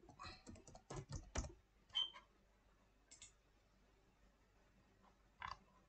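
Typing on a computer keyboard, quiet bursts of quick key clicks in short clusters with pauses between, faint and close.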